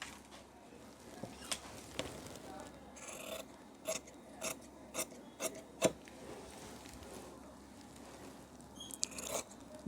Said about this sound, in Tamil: இந்த பீஸ் அப்படியே கட் பண்ணி எடுத்துடலாம்